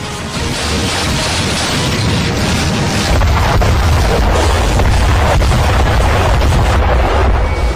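An Indian missile system firing into the sky, a loud continuous roaring rumble of rocket launch that swells and holds heavy and near throughout, with no talk.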